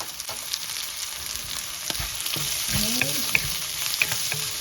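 Onions with cardamom, cloves, garlic and fennel frying in oil for potato roti filling, a loud close sizzle with spatula scrapes and light clinks against the pan, no talk.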